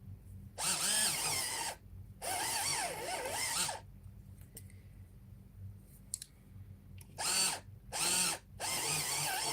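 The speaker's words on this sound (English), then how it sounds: "I'm just going to really quickly use my electric sharpener." An electric pencil sharpener whirs in five short bursts, two longer ones at the start and three quick ones near the end. Quiet pauses separate the bursts.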